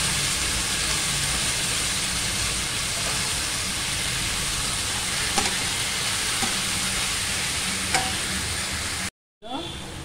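Pieces of shark fish fry with browned onions in a pan, a steady close sizzle with occasional stirring scrapes, cut off briefly near the end.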